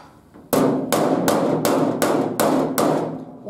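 Sharp, loud hammer blows strike the sheet-metal hood of a 1950 Ford, seven evenly spaced ringing whacks in quick succession with no talking.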